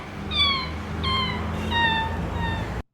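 A cat meows four times in a row, clear, close and evenly spaced, with a faint low background hum.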